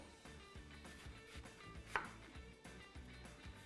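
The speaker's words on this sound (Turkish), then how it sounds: "elmanızı bakın yaklaşık böyle yarım parmak kalınlığında doğrayacaksınız" A knife chops an apple into half-finger-thick slices for an upside-down apple pie, with soft, steady cutting taps and one sharper knock near the middle, close and fairly quiet, with no voice.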